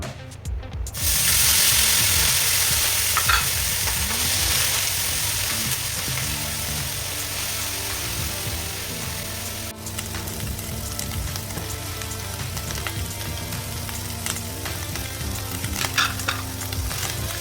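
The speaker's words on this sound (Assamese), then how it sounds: "এতিয়া তাৱাত তেল দিছো নিচলাকেইটা ভাজি লম ভালদৰে" Small nichla fish fry in hot oil in a pan for an Assamese tomato masala dish, giving a loud, continuous close sizzle with stirring scrapes and bursts of spitting oil throughout.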